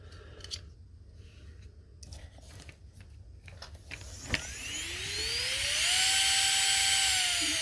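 A rotary tool fitted with a 1/16 inch diamond deburring ball bit on a 3/32 shaft spins up for stippling, a steady high whine rising in pitch and holding loud after a few scattered clicks and handling noises.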